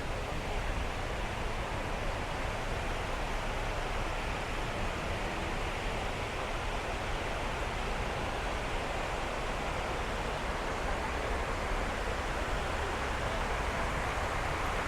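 The 9/11 memorial waterfalls at Ground Zero in New York make a steady, dense rush of falling water that continues without a break.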